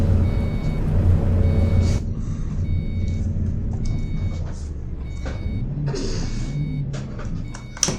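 A truck in Euro Truck Simulator 2 backs up, its reversing alarm giving a steady series of short, evenly spaced beeps over a deep engine rumble, close and with no talk.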